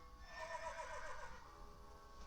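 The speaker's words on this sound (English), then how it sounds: "Ooh, horse." A horse in the game Fire Emblem Echoes: Shadows of Valentia lets out one faint, drawn-out whinny lasting over a second, with quiet background sound and no talk.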